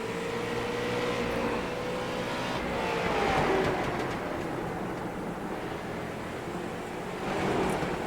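A street stock race car engine drones steadily at South Boston in the iRacing sim, a continuous close roar with gentle rises and falls in pitch as the car laps.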